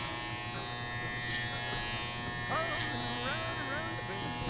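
Electric hair clippers buzz steadily and close while tapering a haircut shorter at the bottom, a constant motor hum running under someone talking.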